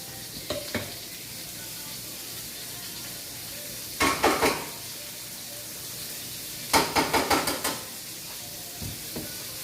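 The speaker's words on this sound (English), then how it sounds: "Want to get some butter in the frying pan for my shrimp." Shrimp sizzle steadily in butter in a hot frying pan, with a few bursts of clattering and scraping as they are stirred.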